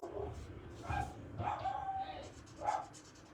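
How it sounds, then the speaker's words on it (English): Dogs barking and yipping outdoors, a few bursts spread across the moment, moderately distant and fairly faint, with some whimpering tones mixed in. "Ooh, my dogs just went crazy out there."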